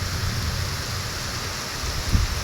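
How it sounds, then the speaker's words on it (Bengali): Heavy downpour on an overcast morning: a steady, dense hiss of rain that holds evenly throughout, with a brief low rumble near the end. "সকালবেলায় উঠে দেখি কি প্রচুর পরিমাণে মুষলধারে বৃষ্টি পড়ছে"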